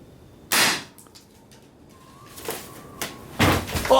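A single sharp gunshot cracks out during pigeon hunting on a farm in the Adirondack Mountains, followed by quieter rustling and a couple more sharp knocks and thumps nearby.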